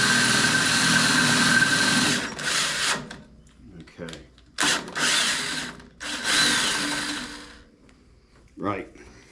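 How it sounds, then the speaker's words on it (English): Power drill driving a Tek screw into the metal smoke stack of a Case International 255 tractor, loud whirring bursts in several runs of a second or two, separated by gaps with brief talk near the end. "Now I'm going to use this Tek screw to see if I can't drill that in there"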